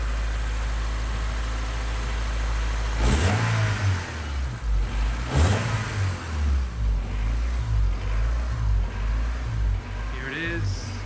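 A car engine with a stock air intake idles steadily, then revs sharply twice and settles into a rumbling idle with small throttle blips, recorded from about ten feet away.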